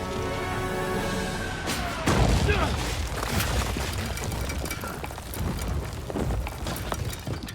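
In Kingdom Come Deliverance 2, a cannon fires during a battle, a heavy boom followed by rumbling, crackling din and scattered impacts, with voices talking over the chaos.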